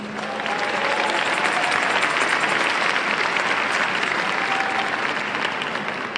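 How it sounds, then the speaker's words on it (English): Audience applause at a celebratory public event, a dense, sustained wash of clapping from a large crowd that stays loud and even for several seconds. "please give a warm round of applause to Kim Gusby of WSAV TV."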